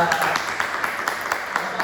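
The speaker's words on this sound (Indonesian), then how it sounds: "Tepuk tangan buat kita." Pupils in a classroom clap together briefly, a quick run of fairly close claps in a loose rhythm.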